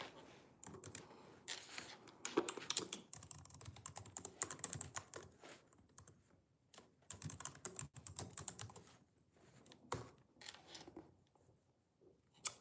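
Rapid typing on a computer keyboard, close and fairly quiet, with bursts of clicking keystrokes separated by short pauses and no talk.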